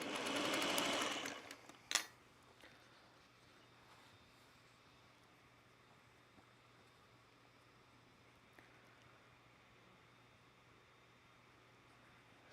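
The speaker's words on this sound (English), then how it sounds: "Come and stitch right next to that line." A sewing machine runs loud and close for about two seconds, stitching a quilt seam. It stops with a sharp clack, and a faint steady hum continues afterward.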